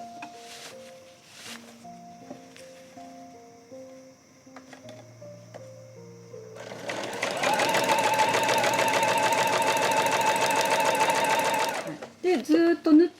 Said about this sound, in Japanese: この布の端を揃えてもう一回続きを縫っていきます